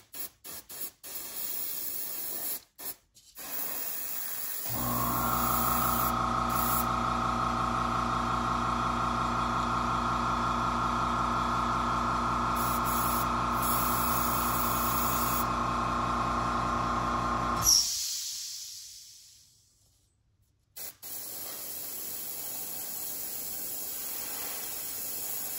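An airbrush or spray gun coats plastic crankbait fishing lures, a steady loud hiss of spray running for about thirteen seconds, with a compressor-like hum beneath, then cutting off into quiet.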